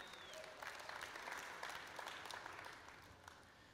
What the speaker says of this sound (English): A round of applause for Twilio and Jeff Lawson